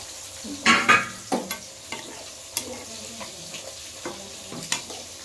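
Fish pieces dropped into boiling curry gravy give a loud sizzling splash early on, followed by softer scattered crackles and bubbling pops in a quiet kitchen.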